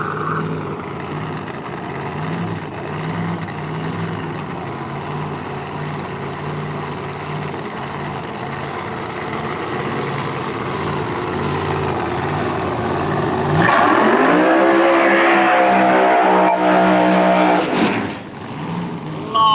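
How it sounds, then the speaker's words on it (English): A drag-racing Mustang does a smoky burnout at the strip, with engine drone building to a loud, rising rev and tire roar near the end before easing off, and voices heard faintly. "Smoky burnout, coming to rest just past the 330 cone."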